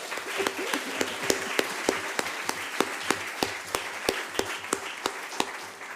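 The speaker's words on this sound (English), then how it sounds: "Let's give Rupi another round of applause" An audience gives Rupi another round of applause during a lecture on African and Jamaican music and creolized Black culture, with sparse, distinct claps repeating steadily over a soft room background.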